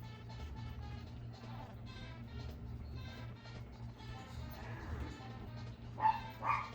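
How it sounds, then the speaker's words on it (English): Dog barks and yips in the video game Super Mario 64, faint and scattered over a low steady background hum, with a couple of louder yelps near the end. "there's still probably some dog noises up there"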